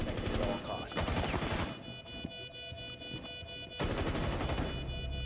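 Rapid gunfire in a Rainbow Six Siege match, bursts of automatic shots crackling loudly in the opening and closing seconds with quieter gaps between, under a busy game soundtrack.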